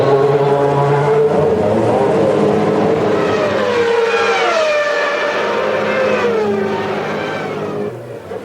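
Ayrton Senna's 1993 McLaren Formula 1 car screams loudly through final qualifying, its high engine pitch climbing and dropping through gear changes in one sustained pass before easing off at the end.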